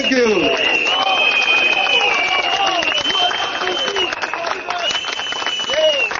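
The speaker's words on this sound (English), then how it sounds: "Give them a loud applause" A crowd at an outdoor Singapore general election rally for the Reform Party claps and cheers, with loud talking and shouting layered over the applause throughout.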